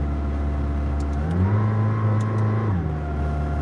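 A McLaren Senna engine droning and revving while driving at low speed, the car refusing to go over about 20 mph; the pitch rises and holds steady before dropping back, loud and close with no talk.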